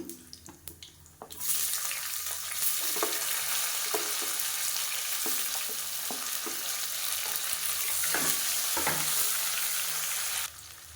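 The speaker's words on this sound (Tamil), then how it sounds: "இப்போ இதில் நீளமாக நறுக்கின வெங்காயம் சேர்த்துக்கலாம்." Sliced onions hit hot oil and burst into a loud, continuous sizzle while cooking tomato rice, with occasional clinks of a spoon stirring in the pan.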